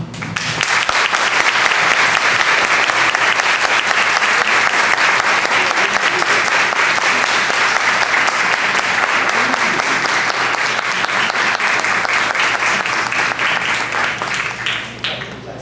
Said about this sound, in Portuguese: com uma forte salva de palmas nosso amigo Nivaldo Fregono